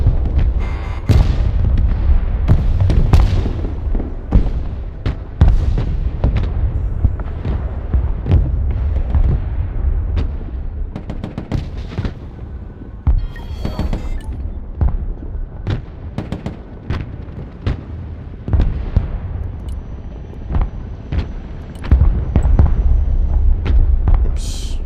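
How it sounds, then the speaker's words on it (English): Repeated artillery blasts and explosions in the RTS video game Broken Arrow, heavy booming impacts arriving in irregular rapid succession throughout, loud and dense with overlapping rumbling detonations. "Artillery is a bit obnoxious, isn't it?"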